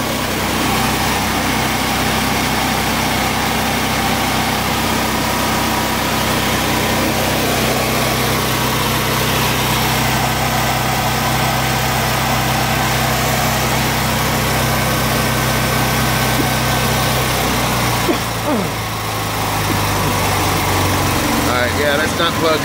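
A Northern Tools portable generator runs unloaded with nothing plugged in, giving a steady, continuous engine drone at close range for the whole stretch, with a brief disturbance near the end.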